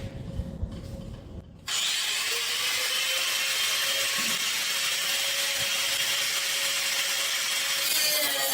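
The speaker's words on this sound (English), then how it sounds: "So we're going to try and cut that at roughly 45 degrees." Wood being hand-sawn at roughly a 45-degree angle while building a table, a steady close rasping that starts abruptly after a quieter opening and continues loud and unbroken to the end.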